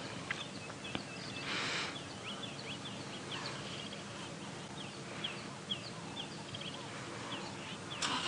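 Hadeda ibis calling at dawn in the African bush during a safari drive, harsh repeated squawks scattered over a steady outdoor ambience, moderately distant, with a louder burst early and another near the end.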